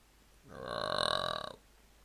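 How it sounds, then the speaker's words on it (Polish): A single long, rumbling burp after drinking a fizzy drink rises and fades over about a second, fairly quiet and close, with no talk over it. "Sorry, że beknąłem, ale... Kurde, gazowane picie."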